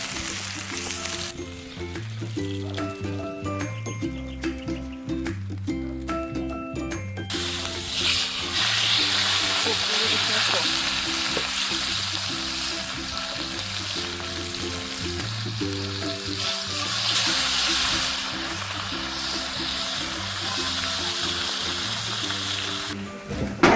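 Escoveitched fish frying Jamaican style over a backyard pimento wood fire, a dense, steady sizzle and crackle of hot oil, loud and close, with some clinks and a low repeating hum in the background.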